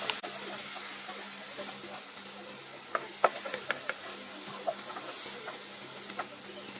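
Browned onions frying in ghee for prawn dum biryani give a soft, steady sizzle with scattered light clicks and stirring scrapes, no talk over it.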